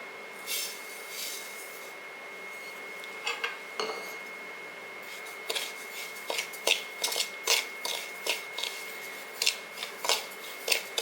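Samba wheat rava dry-roasting in a pan while being stirred, giving a steady dry rustle with a run of sharp, fairly close scrapes and clinks of a utensil against the pan, coming more often toward the end.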